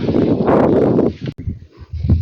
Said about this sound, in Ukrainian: Вітер страшенний. Страшенний вітер.